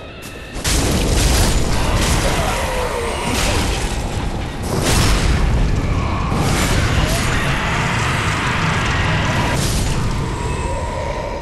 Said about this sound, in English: Wow, they actually explode.